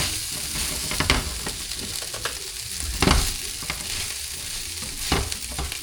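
Fried rice sizzles steadily in a hot pan, with sharp pops and scraping stir strokes breaking through at irregular intervals; no talking.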